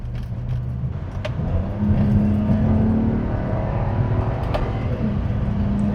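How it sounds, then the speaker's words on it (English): A modified BMW E82 128i six-cylinder engine revs up close in sport mode, climbing in pitch and holding a strong, smooth drone for several seconds. "It's crazy how that 6-cylinder sounds."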